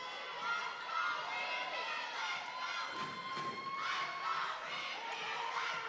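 Sub-varsity volleyball squads cheer and shout together in a school gym during a girls varsity volleyball match, Revere versus Beverly, a sustained, excited crowd roar with young voices rising and falling throughout.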